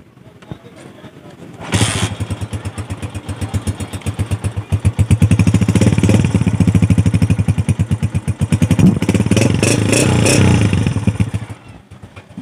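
Used 1997 Honda 125 motorcycle engine started up and running, a close, loud, rapid clattering single-cylinder putter that rises and falls with throttle blips, with voices talking over it.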